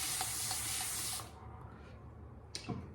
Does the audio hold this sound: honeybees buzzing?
no